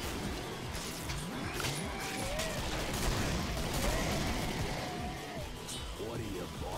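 Gunfire in the Killing Floor co-op map Tomb of Ramses, a dense clatter of repeated shots over a busy, noisy backdrop with no speech in the foreground.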